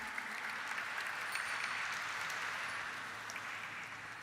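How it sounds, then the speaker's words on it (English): An audience at a stock exchange listing ceremony for a pharmaceutical company gives a round of applause for an award recipient, sustained but quiet, distant clapping throughout. "Let's have a round of applause, everyone."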